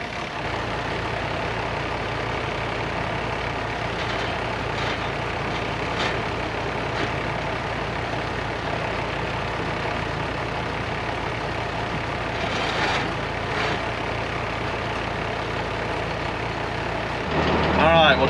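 A tractor engine runs and idles with a steady, loud diesel drone throughout, rising briefly in intensity at the very end; a person talks over it.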